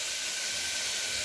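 Chopped onion fries in hot oil for a village-style mutton dish. A steady, even sizzling hiss continues without a break.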